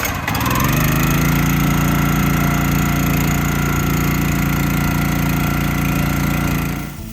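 A borrowed gas-engine log splitter at an off-grid cabin runs at a loud, steady drone with a constant hum, nearby and unbroken until it eases slightly at the very end.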